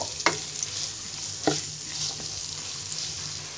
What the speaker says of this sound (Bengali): এবার পেঁয়াজটাকে ব্রাউন কালার করে ভেজে নিব।